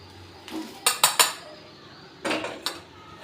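Dishes and plates clink while garlic powder ingredients are moved to another plate in a home kitchen: three sharp, close clinks in quick succession, then a short pause and another cluster of clattering knocks, with no talking.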